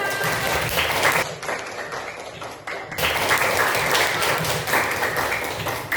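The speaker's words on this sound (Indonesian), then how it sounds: "Tepuk tangan untuk kita semua." Dense, continuous clapping from a group of fifth-grade children fills the classroom, with a brief dip in the middle before the applause swells back up.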